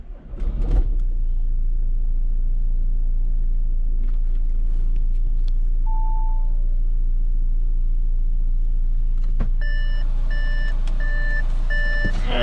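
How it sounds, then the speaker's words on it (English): An Audi A6 with an automatic transmission, in a workshop for dual mass flywheel replacement, cranks and starts, then settles into a steady low idle rumble, with a series of electronic beeps chiming near the end. "I'm going to start the engine."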